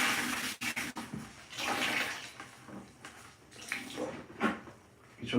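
A sponge dipped and swished in a bucket of water during bathroom cleaning, giving sloshing, splashing bursts with brief pauses, close and moderately loud.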